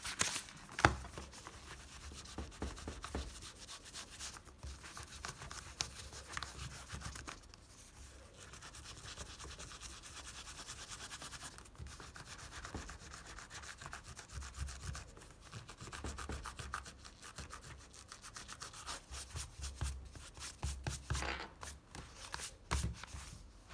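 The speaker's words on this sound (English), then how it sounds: "Use the tip of a rubber glove to erase pencil marks easily." A rubber glove fingertip rubbing out pencil marks on paper, producing a continuous close, dry scrubbing and rasping with short repeated strokes and brief pauses, no voices.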